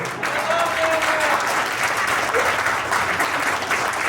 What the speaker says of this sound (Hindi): एक बार बजाइए जोरदार ताली